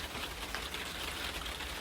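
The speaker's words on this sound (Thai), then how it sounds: "โอ้ฝนมาแล้วนะคะ" A steady, soft hiss of rain falling, continuous and even with no voices.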